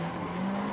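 Simulated car drifting in Assetto Corsa, with revs held high and the clutch dropped; a steady engine drone with a sustained tire-squeal tone runs loud and unbroken throughout.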